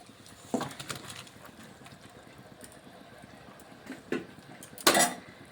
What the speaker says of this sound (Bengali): এখন আমি ভাজা ফুলকপি আর আলুটা এর মধ্যে দিয়ে দিচ্ছি।